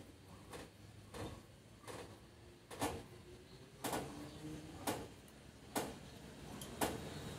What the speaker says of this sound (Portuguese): já coloquei o macaco aqui na porta. Vou levantar ele aqui, ó. E vamos ver se a porta levanta